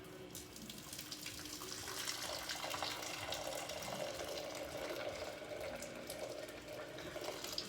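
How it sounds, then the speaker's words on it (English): Salted pasta cooking water being drained off for mac and cheese, a continuous rushing, splashing pour that runs steadily at moderate volume. "take it over, and just get rid of the water"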